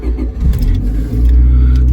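A worn Nissan car's engine fires and settles into a loud, close, steady running rumble with a low throb, heard alone without talk.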